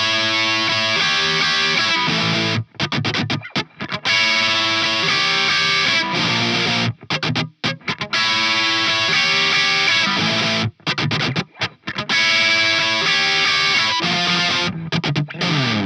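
A heavily distorted electric guitar plays the dense, driving intro riff slowly, loud and continuous, with brief rhythmic stops breaking up the chords.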